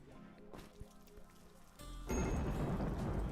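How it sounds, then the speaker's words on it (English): Steady rain with a deep thunder rumble in a survival video game, quiet at first, then a loud, dense downpour swelling in and holding to the end. "It's a rainy thunderstorm."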